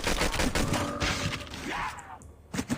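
Pistol fire in the zombie mode of Call of Duty Mobile, season 2, with a rapid string of loud close shots running through most of the stretch, then a brief lull before a few more bursts near the end.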